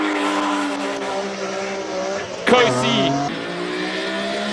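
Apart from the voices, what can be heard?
BMW E46 race car driving at a hill climb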